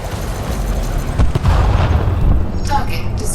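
A pirate ship blows apart in Elite Dangerous with a deep booming explosion, a low rumbling blast that swells and holds for about a second before fading into debris crackle and a short electronic tone.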